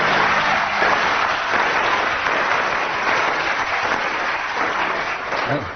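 A comedy panel show's studio audience breaks into sustained, full applause, a thick and steady wall of clapping at close range that begins to ease off near the end, with a voice faintly under it.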